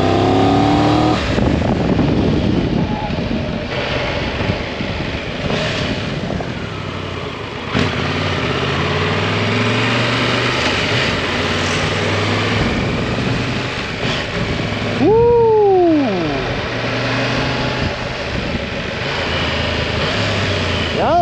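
A Triumph Tiger 1200 GT motorcycle engine drones loudly and steadily during a ride, with deep, gruff low-end tone, shifting pitch on a gear change and constant wind buffeting.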